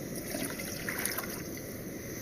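Half a litre of water being poured into a pot while testing an MSR Whisperlite white gas stove, a steady close trickle lasting the whole moment with no voices.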